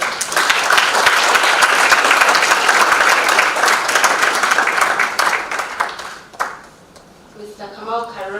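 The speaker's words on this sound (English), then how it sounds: "Please let's give him a round of applause." Conference audience at a judiciary arbitration event in Nairobi applauding a senior counsel invited to the stage: sustained, loud clapping that thins out over several seconds before a voice starts speaking.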